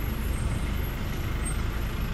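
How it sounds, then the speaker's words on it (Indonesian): A Bogor city sanitation department garbage truck rolling past on a street, a low rumbling engine drone that stays steady and fairly close, heard alone without talk. "Wih, truk sampah nih teman-teman, Dinas Kebersihan"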